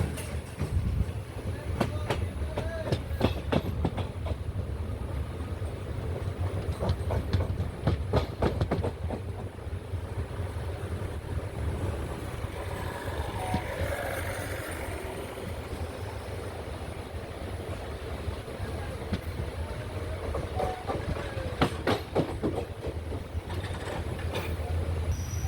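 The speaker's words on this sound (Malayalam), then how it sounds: "ട്രെയിൻ അങ്ങനെ ഇരണിയൽ റെയിൽവേ സ്റ്റേഷൻ എത്താറായിട്ടുണ്ട്" A train rolls toward Eraniel railway station in Tamil Nadu, bound for Kanniyakumari, with a loud, steady rumble and rhythmic wheel clatter throughout, heard from on board.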